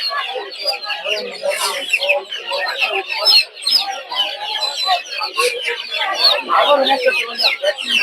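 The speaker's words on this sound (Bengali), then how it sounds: "আর এদিকে আছে হচ্ছে কিছু ফার্মি মুরগি" Many farm chickens at a poultry market in Narsingdi, Bangladesh, cluck and chatter together in a busy, continuous chorus, fairly close, with a brief dip partway through.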